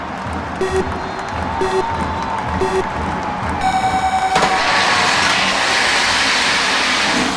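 Pinewood derby cars start on a race track at a Cub Scout pack's Bear Den night, with a few short electronic beeps, then a rising rolling rush and crowd noise swelling near the end.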